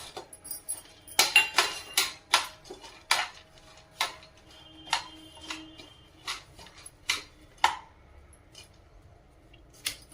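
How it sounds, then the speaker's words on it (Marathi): Watermelon seeds stirred into a pan with a little ghee beside roasted pistachios for laddu: a scattered run of sharp clinks and light ticks, fairly quiet and close, spread irregularly over about ten seconds with no voices. "तर त्यामध्ये टाकून घेऊया कलिंगडच्या बिया."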